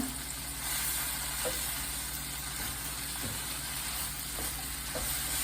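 Pork and wild neem leaves stir-fried over high heat in a pan, giving a steady, fairly quiet sizzle with occasional stirring scrapes, no voices.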